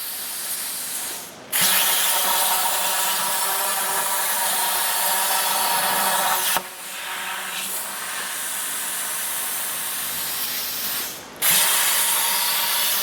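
A JD2 RC6 rotary plasma cutter cutting square tube gives a loud, steady, close hiss that runs almost the whole time, broken by two short dips where the arc cuts out and restarts.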